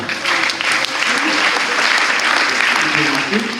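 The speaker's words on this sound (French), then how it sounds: "les gens vont commencer à applaudir, c'est presque pavlovien" A crowd at a mentalism show applauds as a couple is invited on stage: loud, continuous clapping from many hands with some voices mixed in.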